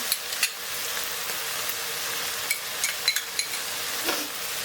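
Long eggplant stir-fried with basil in a pan for a Thai vegetarian dish, with a continuous sizzle and scattered sharp clinks and scrapes of the utensil against the pan.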